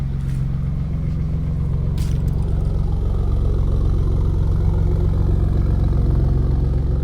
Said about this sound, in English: But listen to the idle.